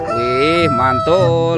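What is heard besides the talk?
rooster crowing from a toy animal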